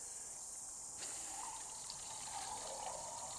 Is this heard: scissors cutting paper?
no